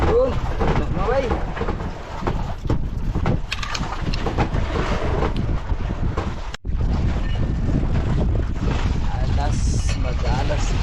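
Strong wind buffets the microphone aboard a small fishing boat out on the open sea, with a constant rushing roar and churning wave wash that drops out briefly before resuming just as loud.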